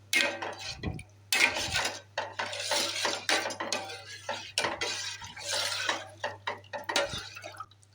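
A health mix porridge being stirred in a pot on the stove, with a utensil scraping and clinking against the pot in irregular strokes, close and fairly loud, with no talking.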